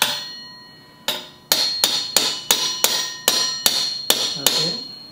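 A speed sensor pickup ring is tapped with a hammer onto a Kawasaki Ninja motorcycle wheel during a wrecked bike rebuild: about ten sharp, ringing metallic strikes, close and loud, settling into a steady rhythm after a slow start.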